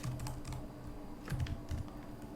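Keys clatter on a computer keyboard as a Linux command to stop Docker is typed, quick bursts of clicks in uneven clusters with short pauses, close and moderately loud, no talking.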